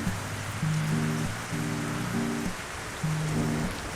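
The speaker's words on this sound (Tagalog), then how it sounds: "Kakainis naman, tagal tumila ng ulan." Rain falls steadily in an even patter, with low sustained musical tones sounding beneath it.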